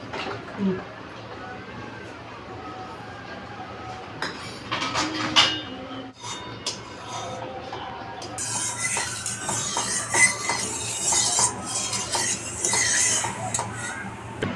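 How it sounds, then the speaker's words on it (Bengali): Oil goes into a hot kadai, or wok, for frying rohu fish heads. A steady crackling sizzle rises partway through, with a few utensil clinks before it and someone talking throughout. "এই কড়াই গরম হয়ে গেছে, তেল দিচ্ছি।"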